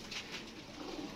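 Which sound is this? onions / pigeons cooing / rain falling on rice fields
pigeons cooing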